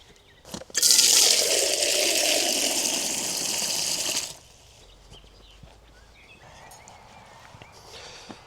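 Water gushes steadily into a camping pot for a few seconds, loud and close, then stops abruptly, leaving faint outdoor background with small clinks afterward.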